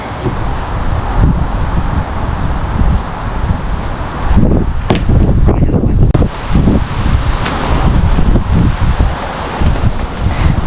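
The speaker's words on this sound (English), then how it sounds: "It's rainy, damp, windy" Strong wind on a rainy, damp day buffets the microphone in heavy, uneven gusts, with low rumbling blasts and rustling throughout.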